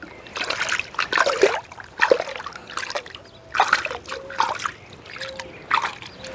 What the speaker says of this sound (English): Now let's go ahead and rinse it off and see if there's a difference.